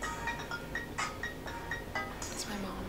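A mobile phone ringtone plays a repeating melodic electronic pattern of short tones indoors, moderately loud, with a voice talking over it.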